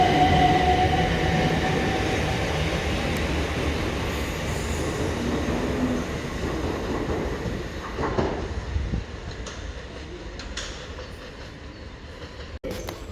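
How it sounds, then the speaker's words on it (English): A train rumbles through West Croydon station, a loud, steady rolling roar of wheels on rail with a brief squeal near the start and sharp clanks toward the end, no talking. "I'm getting an Epsom train."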